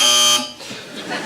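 A panel buzzer on the QI television quiz show gives one loud, bright electronic honk lasting under half a second, then talk follows.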